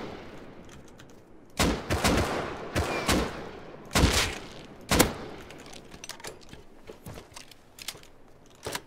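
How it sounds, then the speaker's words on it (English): Gunfire in the survival game Rust rings out in irregular bursts and single sharp cracks over a quiet outdoor ambience, some shots loud and close, others faint and distant. "He's shooting at someone across."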